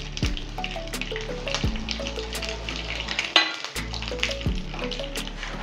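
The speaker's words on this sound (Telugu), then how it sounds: "గిన్నెలో కొద్దిగా నూనె వేసుకొని సరిపడా నూనె వేసుకొని మినపప్పు, ఆవాలు, జీలకర్ర వేసి ఎండుమిర్చి" Urad dal, mustard seeds, cumin and dried red chilies frying in oil in a small vessel for a fenugreek-leaf chutney tempering, a continuous close sizzle with scattered sharp crackles and pops, and a faint tonal hum beneath.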